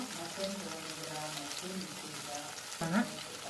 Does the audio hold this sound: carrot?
yes